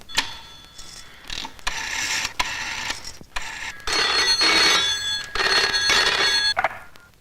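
An old-style telephone bell rings in repeated bursts with short pauses between them, loud and close, with no voices over the ringing. The scene is an indoor family drama.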